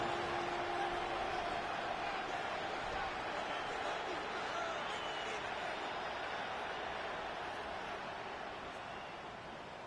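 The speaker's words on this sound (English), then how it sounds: "This crowd doing all they can." A crowd at a college or pro football game roars in a stadium during a third-and-goal play, a dense, steady wall of cheering that fades slightly toward the end.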